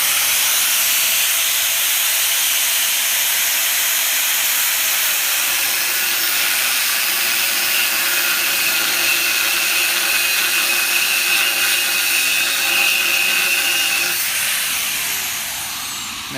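A 5-inch angle grinder cuts through a steel post, giving a sustained, harsh high whine and hiss that holds loud and steady for about sixteen seconds before easing slightly at the end.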